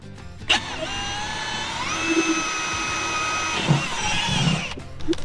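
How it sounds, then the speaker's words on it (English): A power drill whines steadily while boring a pilot hole, its motor pitch climbing midway and then dropping before stopping, loud and close with a few knocks around it. "I'm gonna drill a pilot hole"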